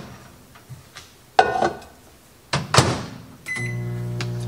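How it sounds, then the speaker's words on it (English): A microwave oven is set to high: a few soft beeps and clicks, a door thud and button presses, then the oven starts with a steady low hum at the end. "you're going to put this in the microwave on high for 2 minutes"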